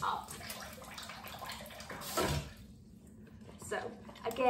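A kitchen tap runs warm water into a dry mix, a steady rushing splash that carries under a person talking and gurgles louder near the end.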